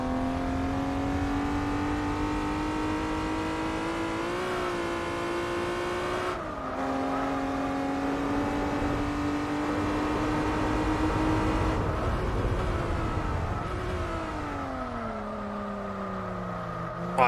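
TVR race car engine in Gran Turismo 4, a sustained droning whine that climbs slowly, dips with gear changes and drops away near the end, steady and fairly loud with no voices.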